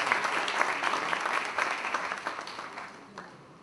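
Audience at a workshop and inauguration ceremony applauding, dense steady clapping that fades gradually toward the end.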